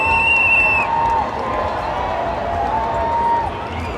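A crowd at the NYC Pride March cheers and whoops in a busy outdoor wash of noise, with a whistle-like tone rising above it and voices mixed throughout.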